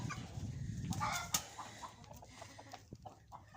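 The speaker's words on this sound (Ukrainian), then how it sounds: "Ось і півники повиходили, курочки трішки гуляють." Hens and roosters cluck and call in a farmyard on a December day, a cluster of close, fairly loud squawks early on, then scattered quieter clucks and bird chatter.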